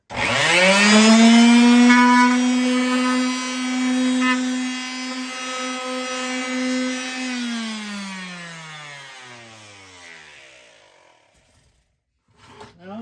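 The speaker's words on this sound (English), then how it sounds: "I just sanded that down a little bit to get it a little bit kind of rough done" A power tool sanding the rough edges of a hole cut in a plastic bucket, a loud steady whining hum that holds for about seven seconds and then winds down in pitch to silence, with no talking.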